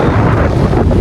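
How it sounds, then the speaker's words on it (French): Wind blowing outdoors on a rainy day in Porto, loud, close gusts buffeting the microphone in a continuous low roar with no talk. "Regardez, regardez le vent, il arrive."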